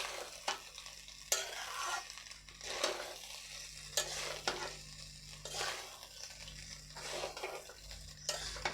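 Leftover cold rice fried in a pan and turned over repeatedly, giving a continuous sizzle with rhythmic scraping strokes of a spatula roughly every second, close and fairly loud, with no voices.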